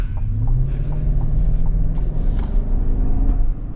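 A 2025 Chevy Tahoe LS with the 5.3-liter V8 accelerating: a loud, steady low engine rumble with harmonics that climb slightly as it pulls, heard alone with no talk.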